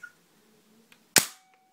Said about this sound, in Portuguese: Deixa eu dar um tiro aqui.